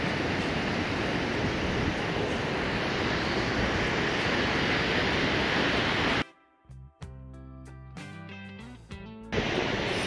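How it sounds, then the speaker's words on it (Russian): The Zolotoy waterfall at Rosa Khutor in Sochi pours with a loud, steady, rushing roar for about six seconds, then it cuts suddenly to music, and the rush returns briefly at the end. "Последний водопад Золотой"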